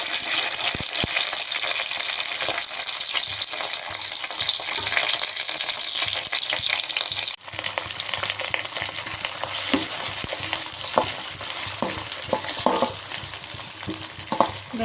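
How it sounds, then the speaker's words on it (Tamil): Onions, fenugreek seeds, curry leaves and green chillies fry steadily in hot oil for a fish gravy, a continuous loud sizzle broken by scattered clicks of stirring, with no voices. "வெந்தயம், கருவேப்பிலை, பச்சை மிளகாய் போட்டு நல்லா வதக்கணும்"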